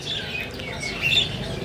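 Small caged birds chirp and tweet at a Sunday bird market in the Ghanta Ghar bazaar of Dera Ghazi Khan, with cockatiel and green finch pairs for sale; steady high chirps over a busy market murmur.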